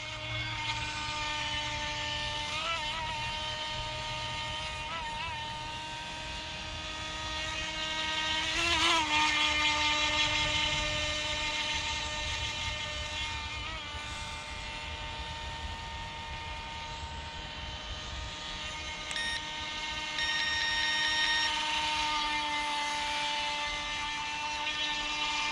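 A cheap RC toy boat's electric motor whines steadily at full speed on open water, a loud, high buzzing drone with shifting pitch as it turns, and no voices.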